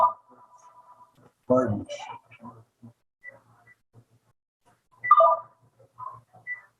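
A telephone beeps in short, steady tones near the start of a panel discussion at a space medicine summit. The beeps sound moderately close, and several people speak in the conference room around and after them.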